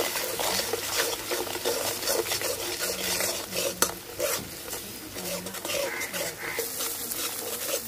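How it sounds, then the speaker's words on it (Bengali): Ginger paste, cumin, turmeric, red chilli powder and salt fry in oil for a katla fish curry. The sizzle is dense and continuous, and a spoon stirs steadily through it with soft, repeated scrapes. "সব মশলা ভালোভাবে কষাই নেব"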